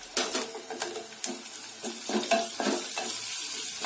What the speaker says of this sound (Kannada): ಈರುಳ್ಳಿ ಬೆಳ್ಳುಳ್ಳಿನ ಚೆನ್ನಾಗಿ ಫ್ರೈ ಮಾಡ್ಕೊಳ್ಳಿ